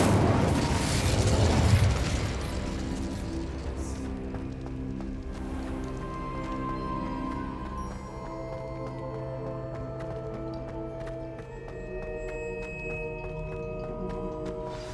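Incendio fire spell in Hogwarts Legacy bursts with a loud whooshing blast at the start, then fades into lingering crackling and ringing tones that trail off over several seconds.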